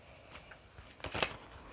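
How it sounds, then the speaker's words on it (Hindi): Tarot cards are shuffled by hand, a brief burst of soft riffling flicks that builds to a crisper flutter near the end, close and fairly quiet. "अच्छे से शफल कर लेते हैं"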